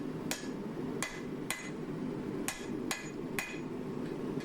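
Seven evenly spaced hammer strikes ring out on hot steel while a twist Damascus hunting knife blade made with nickel powder is forged, each blow sharp and metallic over a steady low roar of background noise.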